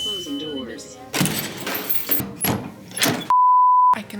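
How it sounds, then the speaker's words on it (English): Transit doors slide shut with heavy thuds, followed by a single steady electronic warning tone, with a voice briefly heard at the start. "Clear the closing doors."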